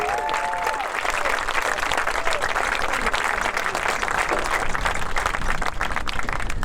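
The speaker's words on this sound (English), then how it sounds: "Let's give everyone a round of applause who served our country." A crowd at an outdoor America 250 celebration gives veterans a sustained round of applause, dense continuous clapping with some crowd noise, steady and full throughout, and faint whistle-like tones near the start.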